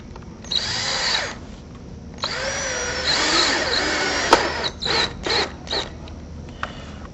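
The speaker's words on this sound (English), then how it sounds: "We'll tighten the screw to the frame and the T-post." A power drill drives screws into a window frame and T-post, several close whining bursts of varying length, the longest rising in pitch as the screw seats, followed by short quick pulses.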